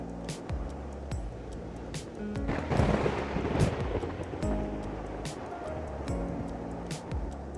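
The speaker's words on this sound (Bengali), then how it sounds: "এখন বৃষ্টিটা খুব জোরে শুরু হয়েছে" Heavy cartoon rainstorm on a palm-leaf hut roof, a steady dense hiss of downpour with a swelling rumble of thunder midway, continuous and fairly loud throughout.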